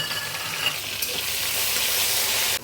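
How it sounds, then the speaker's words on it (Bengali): Ginger paste, thinned with a little water, fries in a pan with a steady bright sizzle, stirred now and then, close and continuous with no talking. "আদাটা ভাজা হয়ে গেছে,"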